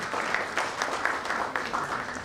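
Audience applause at a medical doctor-patient network event fills the space with dense, steady clapping from a sizable crowd, close and fairly loud, holding even for a couple of seconds.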